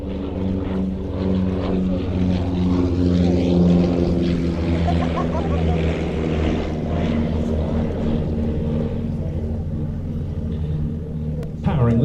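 A Miles Gemini aircraft powered by twin 100 horsepower Blackburn Cirrus Minor four-cylinder piston engines drones steadily and loudly close by, a continuous propeller rumble with a swelling pitch.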